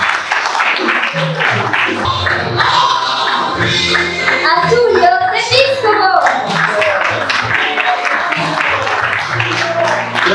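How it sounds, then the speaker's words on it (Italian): An Italian television audience applauds warmly at a Sunday show honouring drummer Tullio De Piscopo, dense steady clapping filling the room for about ten seconds. "un grande applauso per questa domenica"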